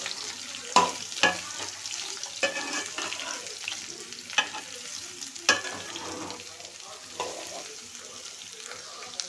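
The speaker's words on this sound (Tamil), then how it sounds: "இப்போ லைட்டாக ஒரு கிண்டு கிண்டு விட்டுக்கிறோம்" A utensil scrapes and clinks around a pan in a few strokes, stirring chopped beetroot, over a soft, continuous sizzle of frying.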